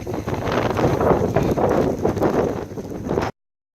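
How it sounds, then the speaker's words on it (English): Strong gusty wind buffets the microphone outdoors on a cold, rainy day, a loud rumbling roar that surges and eases before cutting off abruptly. "It's cold and raining and extremely windy."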